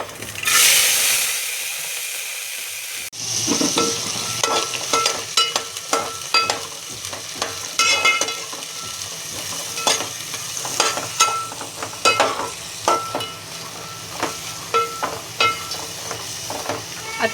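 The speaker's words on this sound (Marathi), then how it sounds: "जिरे तडतडल्यानंतर आता आपण टाकूया भाज्या।" Mixed vegetables dropped into hot oil with bay leaf and crackling cumin seeds: a sharp burst of sizzle, a pause, then steady frying hiss broken by repeated scraping and clattering stirring strokes close up, with no talking.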